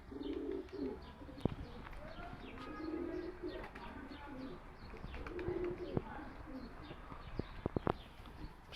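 Young pigeons in a coop on a hot day give soft, low cooing calls that come in repeated bursts. Faint chirps and a few sharp knocks sit over steady background noise.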